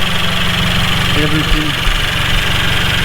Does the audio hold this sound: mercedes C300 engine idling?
yes